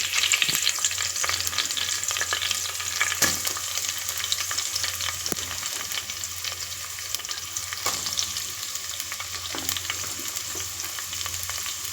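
Chopped onions hit hot oil already frying with ginger, garlic, green chilli and curry leaves for a fish head curry, giving a loud, continuous close sizzle with occasional stirring clicks and no talking.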